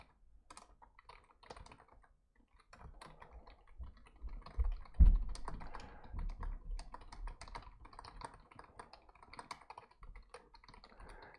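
Typing on a computer keyboard during a lecture, with irregular bursts of key clicks and a few louder thumps near the middle, close and without talk.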